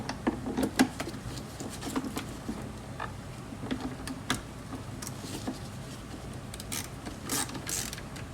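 A socket wrench ratchets in short bursts of sharp clicking while someone works on a BMW M5 engine during an ignition coil replacement, with scattered metallic taps and handling noises at close range in a quiet space.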